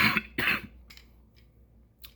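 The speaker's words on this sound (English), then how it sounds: "Excuse my cough." A person coughs twice in quick succession, close and fairly loud, followed by a couple of fainter throat-clearing breaths trailing off in a quiet room.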